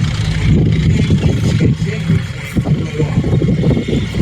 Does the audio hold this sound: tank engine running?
yes